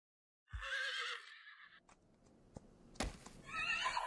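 A horse neighs loudly and close at the start, a long wavering whinny, followed by softer scuffs and thuds, with a second whinny near the end.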